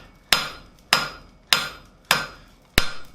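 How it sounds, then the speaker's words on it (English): A blacksmith's hammer strikes hot steel while drawing out a long taper for a forged icicle, five sharp ringing blows at an even, unhurried pace, each decaying quickly, with no talk. "Now your first heat, you don't have to worry about your hammer blows too much."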